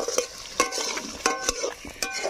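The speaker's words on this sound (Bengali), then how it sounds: "আর এদিকে পিসিমা আলুকে ভেজে নিচ্ছে।" Potatoes frying in a pan in a traditional Bengali kitchen, heard as soft crackling with a few sharp clinks of a utensil stirring against the pan, close by with no talk.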